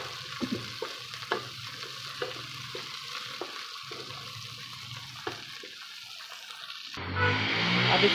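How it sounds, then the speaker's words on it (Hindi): Garlic ginger paste and green chilies frying in a pan for dal, a steady soft sizzle with intermittent clinks and scrapes of stirring, ending in a louder watery rush. "अब इसको अच्छे तरीके से हम मिक्स करेंगे ताकि लहसुन अदरक जो है इसका कच्चापन भी दूर हो जाए।"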